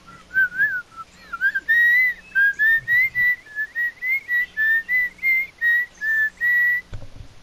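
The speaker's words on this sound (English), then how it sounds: "Who's whistling that?" Someone whistles a bright, wavering tune of short repeated notes, steady and fairly close, with a low background hum and no talking over it.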